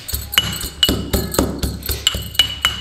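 Green chillies are pounded with a mortar and pestle for a tandoori chicken gravy, producing a steady run of close, sharp knocking strikes, roughly three per second, each with a faint ringing edge.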